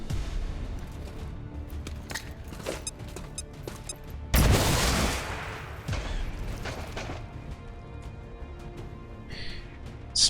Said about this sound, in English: So maybe we just hit him with a grenade.